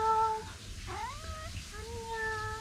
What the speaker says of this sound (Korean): 어머, 얘 개냥이야?